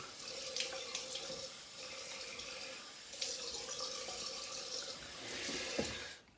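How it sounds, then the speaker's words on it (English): Cold water runs from a bathroom sink tap while someone prepares for a wet shave, a quiet, steady hiss with small splashes and shifts in the flow, ending abruptly. "So I'm going to put cold water too."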